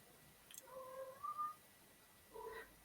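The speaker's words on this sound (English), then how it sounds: "Sorry, that's our cat." A house cat meows indoors, two or three short faint calls in quick succession with a pause before a final meow, set against quiet room tone.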